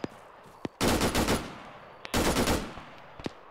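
Arma 3 gunfire arrives as two loud bursts of rapid automatic fire, each under a second long and separated by a pause, with a few single sharp shots around them.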